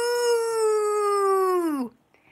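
A poodle lets out one long, loud, steady howl lasting nearly two seconds, with a pitch that falls slightly before it stops abruptly. A faint sound follows.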